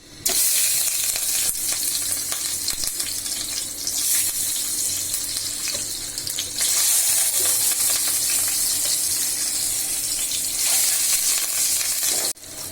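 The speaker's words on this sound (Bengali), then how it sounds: "আমার ডিম ভাজা হয়ে গেল" Eggs frying in hot oil in a frying pan with a little salt and turmeric, a continuous loud sizzle and crackle that runs on, briefly dropping out near the end.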